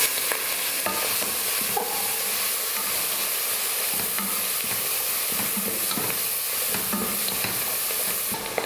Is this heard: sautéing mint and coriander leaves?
yes